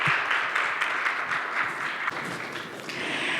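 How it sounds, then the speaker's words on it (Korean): Steady audience applause at a Korean medical seminar on regional healthcare networks, a dense wash of many hands clapping evenly throughout, with a few sharper claps near the end. "너무 멋지게 시작해 주신 고광필 교수님에게 다시 한번 큰 박수 부탁드립니다."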